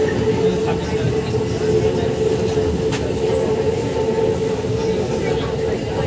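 Inside a Kolkata metro train running from Sector 5 toward Sealdah past Salt Lake Stadium, a loud, steady rolling rumble fills the carriage, with a faint whine and occasional light clicks.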